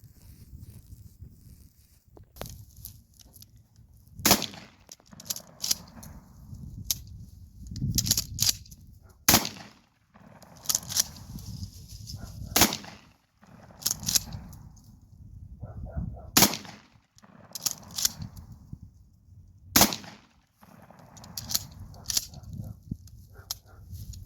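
Bird shot rounds fire from a shotgun outdoors in a string of loud, sharp bangs, spaced irregularly over a rumbling background, with long gaps between the shots.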